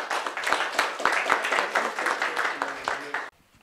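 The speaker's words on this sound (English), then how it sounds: "Please join me in applauding both of them." Audience applause at an academic seminar on international relations, a steady wash of many hands clapping in a hall with a few voices mixed in, ending abruptly.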